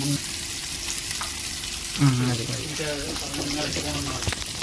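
Freshly caught sea fish frying in a pan: a continuous close sizzle under a voice and musical tones, with a brief louder burst midway.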